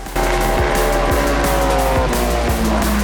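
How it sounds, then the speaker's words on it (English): A Honda S2000 drift car at full throttle at a Formula Drift event at Road Atlanta roars loudly and steadily, its high engine note holding with repeated gear-change dips and tire squeal in the background, without talking. "That S2000 is giving it everything it's got."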